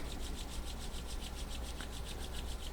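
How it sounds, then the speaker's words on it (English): Two palms rub briskly together during a Chi Gung and Tai Chi warm-up, a steady, close, dry friction lasting throughout, with a faint pulsing rhythm and no speech. "rub the hands together"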